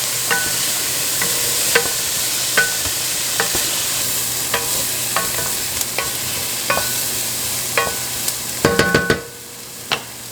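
Onion and pepper sauté in a pan for Tuscan chicken pasta, a constant close sizzle broken by regular light utensil taps and a brief clatter of stirring near the end.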